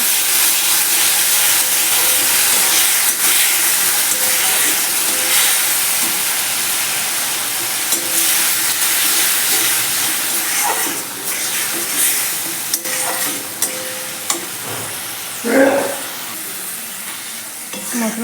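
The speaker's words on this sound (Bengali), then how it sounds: "জিরে ধনে গুঁড়ো, হালকা জল দিয়ে ভালো করে মশলাটা কষিয়ে নেব।" Spiced masala of cumin and coriander powder with a splash of water sautéing in a pan for a mango fish curry, a loud continuous sizzle and hiss with occasional stirring scrapes near the end.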